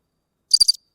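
Cricket chirping at night, a single short burst of three or four rapid high-pitched pulses, clear and close against near silence.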